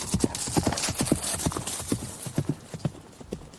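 A horse's hooves clip-clop in a steady, brisk rhythm of sharp, distinct hoofbeats, moderately close, heard alone without voices.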